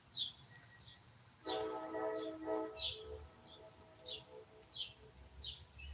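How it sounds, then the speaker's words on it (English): A train passes down the street at a distance, a faint low rumble with a brief tonal horn-like swell, while birds chirp steadily throughout. "That was a train down the street."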